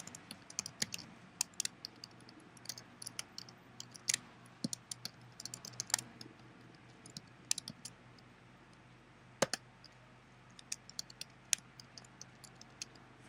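Irregular bursts of keystrokes tap out on a computer keyboard, crisp and close, with uneven pauses between clusters of clicks and no talking.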